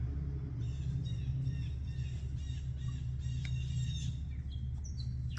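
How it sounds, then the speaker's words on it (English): Several birds chirp and call outdoors on a summer morning, scattered short tweets of moderate distance over a constant low rumble of background noise. "A lot of bird activity."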